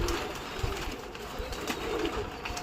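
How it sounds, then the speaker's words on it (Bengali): Pigeons coo softly as they settle down slowly onto a rooftop, a faint murmuring call under a steady wash of outdoor background noise. "আর দেখো পায়রা নামছে আস্তে আস্তে"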